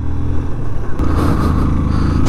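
Motorcycle engine labouring steadily up a steep hairpin bend on a mountain road in the high Himalayan region near Hikkim and Langza, a continuous close, loud drone with wind rush and a brief clatter near the start.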